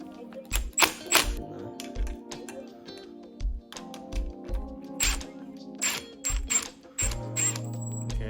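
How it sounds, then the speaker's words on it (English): A nut is worked loose on the handlebar of a Yamaha MT-07 motorcycle, heard as a series of close, soft metallic clicks and thunks in an irregular rhythm, fairly quiet overall. "There's a nut right here that I'm about to undo."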